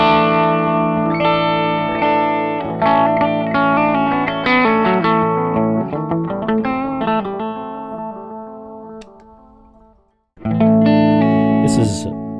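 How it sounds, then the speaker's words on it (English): An electric guitar on its neck pickup, played through a delay pedal powered by a stomp-box supply in manual mode, rings out clear notes and chords with trailing repeats, then stops briefly before ringing out again. "Delay right here is also being powered by this Stomp Box, and this is what it sounds like"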